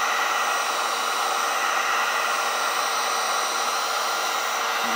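A heat gun blows loudly and steadily, heating a gold foil logo on glass, with a constant broadband whoosh that stays close and unbroken throughout.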